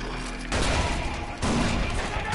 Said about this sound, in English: I'm chucking grenades in there.